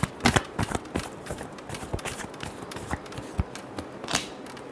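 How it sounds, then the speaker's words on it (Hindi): Playing cards are shuffled by hand, making a quiet run of quick, papery flicks and snaps with a few sharper taps, steady and close. "last shuffle"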